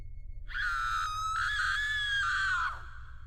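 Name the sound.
woman screaming in horror, narrated story sound effect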